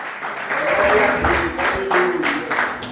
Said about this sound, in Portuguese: Quantos podem dar glória a Deus e aplaudir o Senhor por isso? Aplauda Ele nessa noite